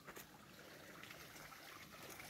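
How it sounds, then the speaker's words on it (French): Very faint, continuous trickle of water from a small working river on a model railway layout, a soft steady gurgle with nothing else over it. "Je vais vous faire voir la belle petite rivière. La magnifique même, je dirais. Elle fonctionne impeccable."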